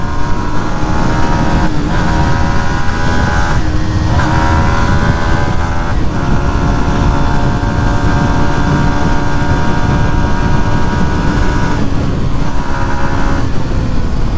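A Yamaha XSR 155 motorcycle engine pulls hard under acceleration while riding, a loud continuous rising drone with harmonic whine, briefly dipping at gear shifts and then climbing again, with steady wind rush underneath.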